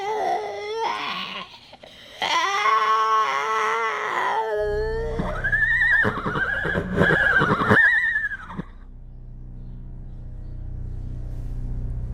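A horse neighs loudly twice in long, quavering whinnies, followed by a low steady hum that continues after the calls end.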